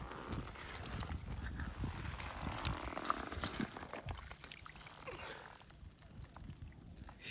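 Heavy runoff water pouring out of a rural hillside after heavy rain, a steady broadband rushing and splashing flow heard close by throughout, with no talking.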